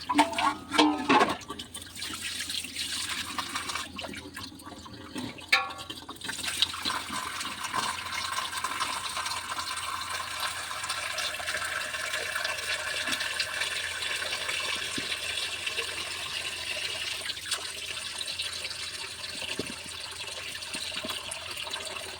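Water pours steadily over a shark fish as it is washed in preparation for shark curry, a continuous splashing gush like a running tap, loud and close from start to end after a few brief knocks at the opening.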